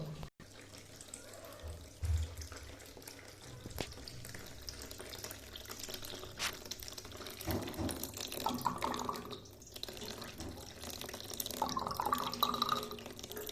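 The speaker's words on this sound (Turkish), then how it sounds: "Simsiyah su akıyor." Dark, dirty water runs out of a home radiator's bleed valve as it is flushed, a steady trickling and splashing flow with drips, moderately close and fairly quiet, continuing throughout without talk.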